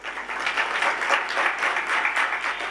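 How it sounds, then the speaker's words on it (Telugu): Audience applause at a Sai devotional samarpan gathering at Sivam, a dense, steady wash of many hands clapping at moderate distance, sustained evenly throughout with no voices over it. "ఇంతేనా చప్పట్లు."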